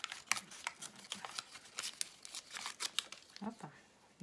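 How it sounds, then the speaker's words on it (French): Paper torn by hand for a junk journal page decorated with black-and-white photos, a series of short crisp ripping and crinkling bursts in quick irregular succession, close by with no talking. "hop, je déchire le papier."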